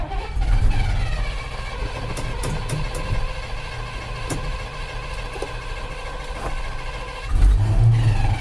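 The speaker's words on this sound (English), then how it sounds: "We can pull that and hold the throttle high." A $1,400 farm dump truck's engine revs hard with the throttle held high, a steady loud drone that swells again near the end, with no talking.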